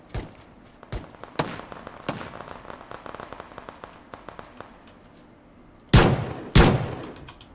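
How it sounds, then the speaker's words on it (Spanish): Gunfire from an enemy player in PlayerUnknown's Battlegrounds: scattered sharp cracks of distant shots in an uneven rhythm, then two louder, closer bursts near the end, with no talk. "Está disparando a alguien, ¿eh?"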